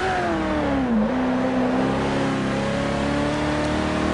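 A car engine revs and accelerates in an Xbox One racing game set in Arizona, loud and continuous, the pitch climbing, dipping briefly, then rising again as the car picks up speed.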